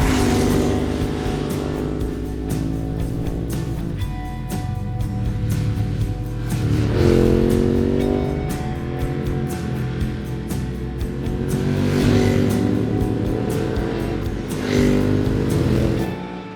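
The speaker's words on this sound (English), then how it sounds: "So here we are on the road enjoying a pair of 916 series bikes." A pair of Ducati 916 series motorcycles ride along a road, a steady engine drone with wind rush and rising pitch sweeps as the throttle opens, loud and continuous from close by.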